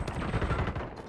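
Rapid gunfire in an online battle-royale video game, a quick burst of several sharp shots fired close together, moderately loud and brief.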